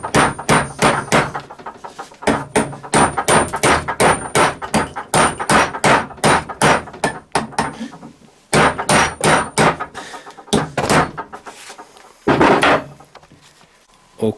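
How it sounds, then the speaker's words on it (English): Repeated hammer blows on a tool seated against a stuck driveshaft bolt on a Volkswagen or Audi, loud metallic clanging in rapid bursts with short pauses between groups of strikes, close by and alone. "And then hammer."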